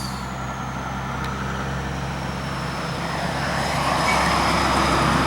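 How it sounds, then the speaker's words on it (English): A truck passes on a road beside a garden, a broad rumbling roar that swells louder toward the end as it draws near, with no voices. "Just gonna let the truck pass."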